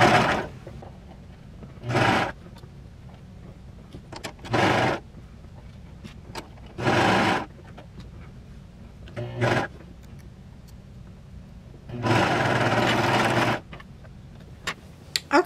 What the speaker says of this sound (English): So now we'll just do, again, a serge right along that edge